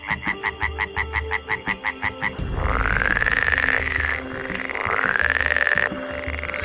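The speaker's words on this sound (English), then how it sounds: "And frogs make a variety of noises." A rapid series of pulsing frog croaks gives way to long, rising buzzy calls repeating in a steady rhythm, loud and close.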